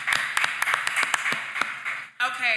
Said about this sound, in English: Everybody give Carrie a round of applause.